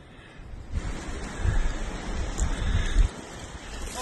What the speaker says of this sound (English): Oh, it's windy up here.